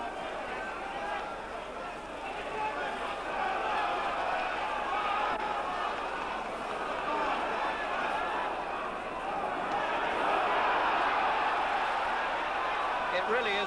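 Crowd at a Wembley boxing match cheering and roaring steadily in the background, a broad sustained murmur that swells slightly, with a commentator talking over it.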